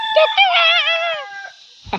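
A single chicken gives a drawn-out, warbling cluck-like call, loud and near, followed by a short scuffling noise.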